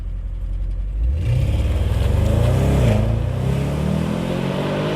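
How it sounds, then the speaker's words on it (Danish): A 2017 Audi S8 Plus engine rumbles through its four exhaust pipes, quiet at first and then surging into a loud, close rev that rises and falls before settling back to a steady idle. "Kommer vi om bagpå, så er bilen udstyret med de her 4 udstødningsrør. De gør, at bilen den lyder helt vildt godt."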